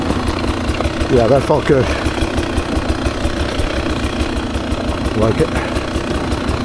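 A 2024 Beta 300 RR Race Edition motorcycle engine idles and burbles steadily on a trail, running throughout while a rider talks briefly over it.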